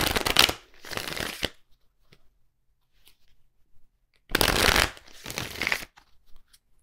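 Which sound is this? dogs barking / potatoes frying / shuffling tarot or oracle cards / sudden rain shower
shuffling tarot or oracle cards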